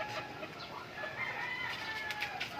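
Cross Barnet gamefowl roosters and hens in a yard crow and cluck faintly at a distance, a brief mix of overlapping calls against a soft outdoor background.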